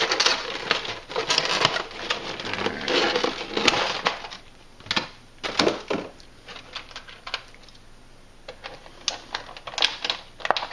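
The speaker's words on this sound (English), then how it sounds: "I'm just going to take the main frame out of the box." A frame and small parts being lifted out of a cardboard box, with bursts of crinkling, rustling and clattering handling noises that come and go, close by, with no speech.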